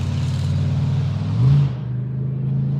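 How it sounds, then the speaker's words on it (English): A loud truck passes close by outside, its low engine rumble steady and swelling briefly to a peak before easing off, with no talk over it. "loud truck"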